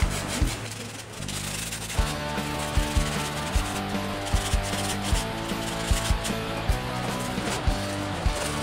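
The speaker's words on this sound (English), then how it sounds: "by using the sandpaper, we will smooth out the place that we cut before this." Sandpaper is rubbed by hand over a freshly cut edge during a composting-bin build, a close, continuous scratchy rasp with quick back-and-forth strokes and a low background hum.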